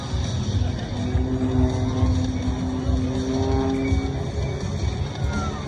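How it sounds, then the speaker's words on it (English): Small engines of powerful model planes at an airshow drone steadily at a distance, their pitch rising as they climb, a continuous buzzing whine over wind noise. "Listen to the engine climb of those powerful model planes."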